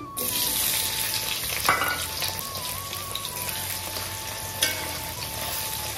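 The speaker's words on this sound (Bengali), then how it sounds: "দিচ্ছি পেঁয়াজ কুচি" Chopped onion fries in hot mustard oil with dried red chilli and whole cumin, a steady close sizzle with a couple of stirring clatters and a faint tone running underneath.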